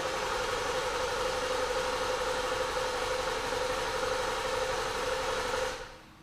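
A 2014 Lincoln MKZ with a 3.7L engine cranking over: a steady, loud mechanical drone with a constant tone that holds for nearly six seconds and then cuts off abruptly.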